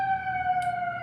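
Emergency sirens outside, sounding as steady, sustained high tones that stay fairly loud and constant throughout, with no talking.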